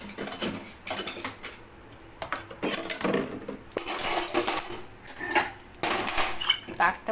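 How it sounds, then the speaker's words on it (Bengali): Tiffin dishes and metal containers being washed by hand, with scattered clinks and clatters of utensils knocking together over running-water hiss, close and moderately loud, in irregular bursts. "টিফিনের বাসন আমরা ধুয়েই নিই"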